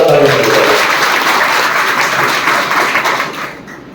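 A crowd applauding at a school parents' meeting, loud dense clapping that holds for a few seconds and then fades toward the end.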